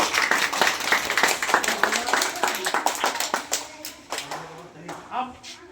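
Audience at a school summer language camp quiz clapping for a child's correct answer, a loose patter of handclaps running throughout with voices mixed in.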